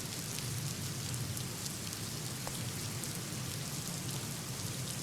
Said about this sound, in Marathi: विदर्भात सुद्धा मुसळधार पाऊस कोसळतोय